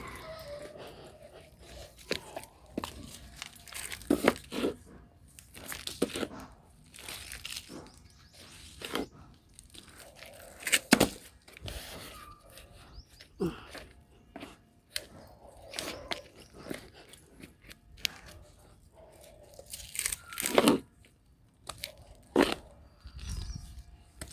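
Plastic nursery cover being pulled off a potted plant and soil crumbled away from its roots, heard as close crinkling, tearing and crunchy rustling in irregular bursts, with no talking.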